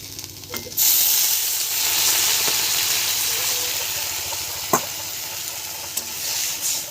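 Water poured into a pan of vegetables sizzling in hot oil, erupting into a loud steamy hiss that stays steady and slowly settles, with a few sharp clicks of utensils.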